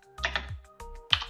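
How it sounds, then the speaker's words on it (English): Keystrokes tapped on a computer keyboard while entering a terminal command on Ubuntu, three short bursts of crisp, close clicks separated by brief pauses, with no talking. "I'm going to type in node --version"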